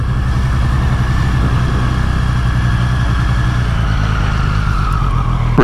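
A 2023 Triumph Street Triple 765 RS motorcycle runs continuously and loud along a dual carriageway, with a steady engine roar mixed with heavy wind rush from riding.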